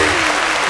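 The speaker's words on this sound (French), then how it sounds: "Est-ce qu'on peut applaudir un peu?" A brief burst of dense applause from a studio audience on a French TV show, loud and continuous with no distinct voices over it.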